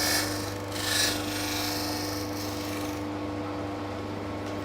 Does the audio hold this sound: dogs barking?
no